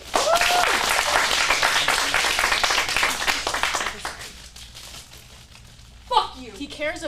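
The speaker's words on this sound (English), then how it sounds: "Give a round of applause." A room audience at an adults' acting script showcase in Phoenix breaks into dense, loud applause that gradually thins and fades, before a voice speaks at the end.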